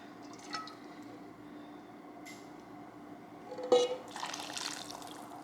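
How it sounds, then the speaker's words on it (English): Hot water poured into a soup pot of sauteed vegetables for vegan lentil soup makes a brief splashing gush near the end, after a few faint clinks and drips in a quiet kitchen. "I'm going to add a little bit of hot water in here so we don't lose any of these flavors."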